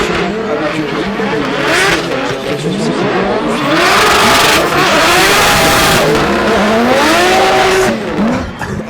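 Race car at full throttle on a night circuit in Vesoul: a loud, close engine howl that rises and falls through repeated gear changes and builds to a sustained roar, with faint crowd noise beneath.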